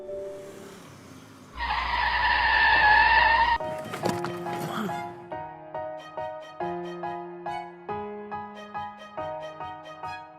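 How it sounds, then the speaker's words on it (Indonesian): A car brakes suddenly on a city street to avoid a cutting-in motorbike, giving a loud two-second tire skid, then a clatter and a series of rhythmic horn-like tones. "barusan ngerem mendadak"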